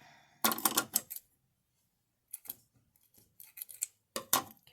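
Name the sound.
scissors cutting ribbon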